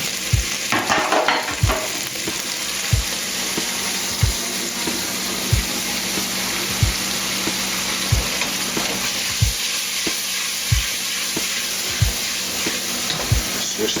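Roasted potatoes seasoned with herbs and spices are dropped into a hot pan and stirred, giving a steady sizzle with regular scraping strokes about every second and a half, close and alone without talk.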